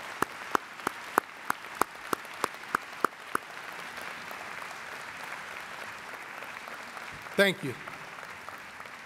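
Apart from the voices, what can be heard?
big round of applause for the faculty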